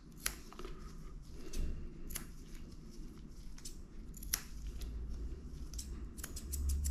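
Scissors trimming the fur of a sedated dog during grooming, giving repeated sharp metallic snips at an irregular pace, close and clear over a low background rumble, with no talking.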